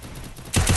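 Gunfire from a Free Fire battle royale match, apparently an MP submachine gun: a muffled rattle gives way to a louder, close burst of rapid repeated shots in the final half second.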